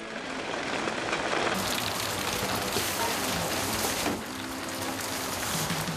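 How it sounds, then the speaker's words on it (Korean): Monsoon rain pours outside during a long rainy season while cleaners clear a trash-filled home, a loud, dense, continuous hiss of rainfall that eases slightly near the end. "하루 종일 비가 오락가락하는데요"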